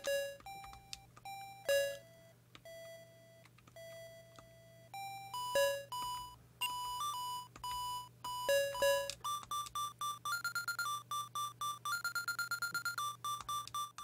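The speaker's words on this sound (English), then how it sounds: "Is it beeping because there's a freaking monster near me?" A Colecovision video game sounds a series of electronic beeps and tones, single notes first, then faster repeated bursts of rapid beeping, alone without talk.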